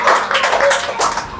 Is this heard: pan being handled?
no